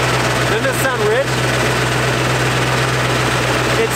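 Steady low drone of a totaled Ford 7.3 Powerstroke diesel engine running with a broken-off exhaust, idling continuously and loud up close, with a faint whistling tone over it.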